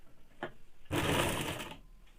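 A sewing machine stitches folded woolen fabric for a baby frock, a short tap, then a loud burst of rapid needle clatter lasting under a second before it stops.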